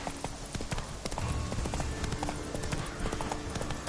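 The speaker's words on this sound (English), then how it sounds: "That's it, Roach." Roach, a horse in the video game Witcher 3, trotting with rapid, steady hooves clip-clopping close by over a busy ambient background.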